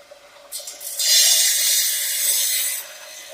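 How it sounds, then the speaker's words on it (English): A long piece of wood trim is pushed against a saw blade and fence, giving a close, steady rasping grind that swells after a short scrape and holds for about two seconds before fading. "I'm putting pressure against the blade and back to the fence."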